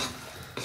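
A brief, close stir of herbs into a ratatouille pot, a soft scrape and slosh of the spoon with a slight clink at the end, heard alone.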